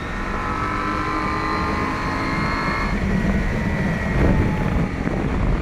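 A KTM 790 Adventure motorcycle on knobby tyres roars continuously under load while riding, with loud steady engine drone, wind rush and a shifting pitch partway through, close and dominant throughout.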